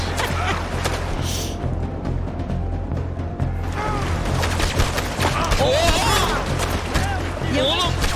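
Rapid MP5 submachine gun fire crackles in the video game Red Dead Redemption 2, bursts of shots and thuds running through most of the stretch, with people talking over the din.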